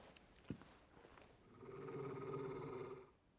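Torgal, the wolf-dog in the video game Final Fantasy XVI, gives a low, rumbling growl that swells for a second or two and then trails off, fairly quiet, after a soft thump.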